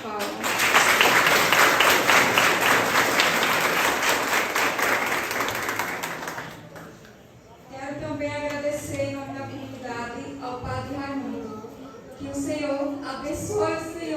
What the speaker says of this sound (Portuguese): A todos vocês, uma grande salva de palmas